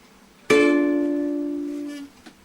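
A single guitar chord, part of a tuning lesson, strummed across the neck, rings out once and decays slowly over about a second and a half, alone and close.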